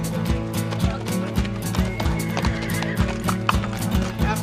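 Horses clop their hooves in a steady rhythmic beat while being loaded onto trailers, with neighing mixed in, loud and close, over a dense, busy background.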